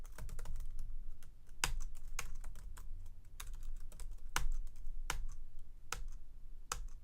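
Keys clack on a computer keyboard while moving around a file browser in Vim, a steady run of light, close taps with a few sharper, louder strokes spread throughout.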